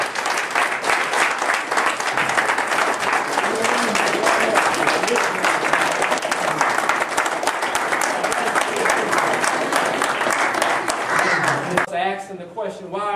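A lecture audience gives a sustained round of applause, thick and steady clapping that carries on for several seconds before a voice takes over at the end.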